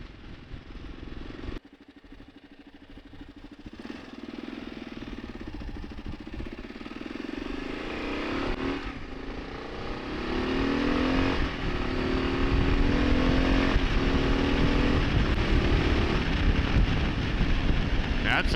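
A 2025 Kawasaki KLR650 accelerating hard on a bumpy back road, its single-cylinder engine note climbing steadily in pitch and loudness over the run. Wind rush buffets the helmet microphone throughout.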